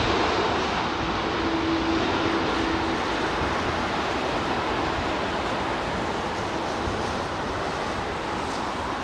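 British Airways Airbus A320 or A319 in BEA livery at a windy Heathrow, sounding as a dense, steady jet roar with a brief whining tone early on, loud and close, without voices.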